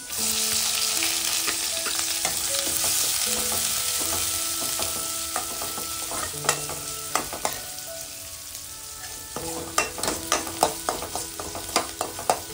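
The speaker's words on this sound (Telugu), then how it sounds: "ఫస్ట్ వెల్లుల్లి, సో ఏదైనా కానీ లైట్గా ఫ్రై చేసుకోవాలి, ఎక్కువ ఫ్రై చేసుకోవద్దు." Garlic and onion fry in a pan with a steady, loud sizzle, broken by sharp scraping strokes of a spatula that grow more frequent toward the end, with no talking.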